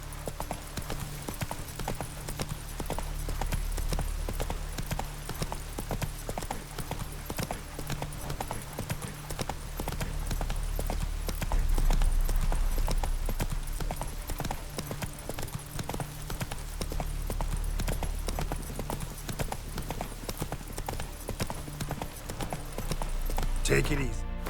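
Roach the horse gallops in The Witcher 3, a steady rhythmic clip-clop of hooves pounding on for the whole stretch, close and prominent, with a spoken voice and game sounds layered over it.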